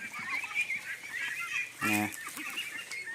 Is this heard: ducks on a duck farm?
yes